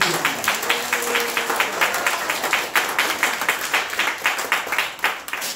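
An audience of gathered members at an indoor rally claps together in a sustained round of applause, with dense, rhythmic, fairly close hand claps throughout and no clear talking.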